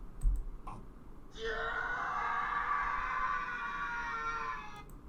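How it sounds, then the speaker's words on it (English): A loud, sustained high-pitched scream holds for about three and a half seconds after a few brief clicks and noises, then cuts off abruptly. "They used that scream in Prison Break."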